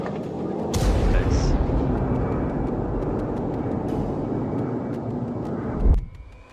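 A loud, continuous roar from a GAU-8 Avenger seven-barrel rotary cannon fills several seconds, a dense buzzing blast that cuts off abruptly near the end.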